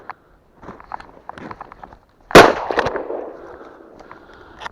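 A single sharp shotgun blast cracks out during a pheasant hunt in snow, preceded by crunching footsteps and followed by a fading echo and more steps.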